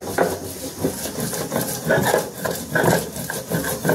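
Onion and garlic ground finely on a grinding stone for a dish of prawns: a steady, loud scraping and rubbing that repeats in rhythmic strokes throughout, close up, with no one talking.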